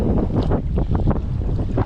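Steady wind buffets the microphone in gusts from a kayak on Greenbo Lake in December, a low rumbling roar over open water, loud and continuous with no voices.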